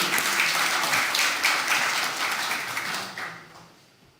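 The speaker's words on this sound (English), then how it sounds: "Mr. Lalish, under your applause, please." Audience applause greets Mr. Lalish, President of the General Confederation of Moroccan Enterprises, at a UN climate change event for COP28, thick and even for about three seconds before tapering off.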